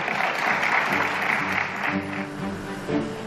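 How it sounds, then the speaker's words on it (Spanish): After a vote, an audience breaks into applause, a sustained, fairly even patter of many hands that rises and falls slightly over a few seconds, with some voices faintly underneath. "esto se merece un aplauso"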